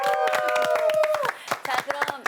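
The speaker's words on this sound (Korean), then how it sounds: "박수 한번 주세요" A studio audience on a Korean military entertainment show claps in sharp, distinct hits, while voices carry through and over the clapping, which thins into scattered claps near the end.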